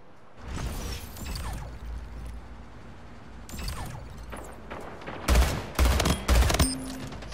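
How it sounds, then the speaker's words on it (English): Plasma rifle fire in the game Splitgate: loud bursts of rapid shots with whooshing and mechanical effects, and the heaviest volleys come near the end over a constant game background. "This plasma rifle's pretty good too."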